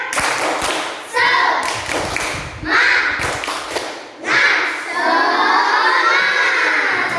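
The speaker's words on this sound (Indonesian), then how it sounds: "presentasi kita tepuk semangat dulu yuk" Schoolchildren perform a rhythmic spirit clap, a tepuk semangat, clapping in bursts between loud chanted shouts, with sharp group claps and excited voices alternating in a repeating pattern close by.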